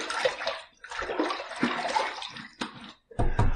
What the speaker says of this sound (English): Let me wet the face.